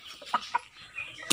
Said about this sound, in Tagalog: Manok ni Papa.